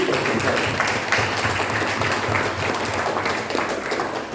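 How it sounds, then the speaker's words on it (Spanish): Audience applause for a doctor newly elected dean of the medicine faculty, heard at a book presentation event; steady, dense clapping from a crowd sustained throughout at moderate loudness. "así que también pedimos un fuerte aplauso para el médico"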